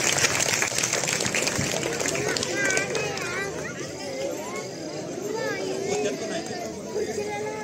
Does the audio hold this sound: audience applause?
yes